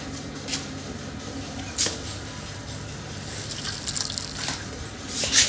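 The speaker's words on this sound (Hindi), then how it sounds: "कद्दू का पानी निकल रहा है" Water squeezed out of pumpkin drips and squishes in several wet bursts over a low steady background, with soft liquid spatters close by and no talking.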